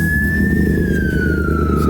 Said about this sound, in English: Ambulance coming past. There's a fire brigade. Fire brigade coming past. Loud.